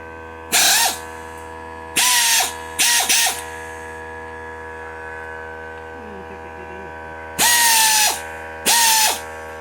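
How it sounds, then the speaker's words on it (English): A hand ratchet turns bolts on a PT Cruiser engine, five short bursts of rapid clicking, close and loud, separated by pauses over a steady background hum. "She's got her ratchet in hand. She's ready to get after it."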